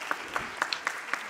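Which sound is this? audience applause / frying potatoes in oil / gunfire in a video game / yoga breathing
audience applause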